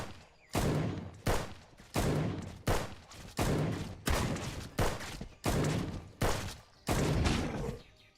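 Musket gunshots in the open-world survival crafting game Ars Notoria: about ten loud, booming reports fire in a fairly regular rhythm roughly every 0.7 seconds, each with a short decaying tail.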